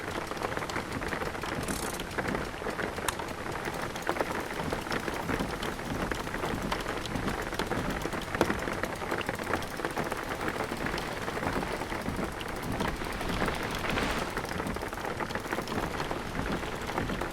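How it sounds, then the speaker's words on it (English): Heavy rain drums steadily on a car while driving in the video game Jalopy, a thick continuous patter with no speech over it. "this rain's getting pretty thick"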